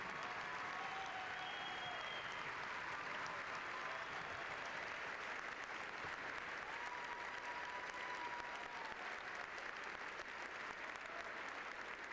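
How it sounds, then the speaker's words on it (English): Sustained applause from a commencement audience honoring a graduate's memory, a steady dense wash of clapping that stays even and moderately distant throughout, with no voices over it. "Please join the faculty, staff, and students of ULM in a round of applause to honor Lauren's memory"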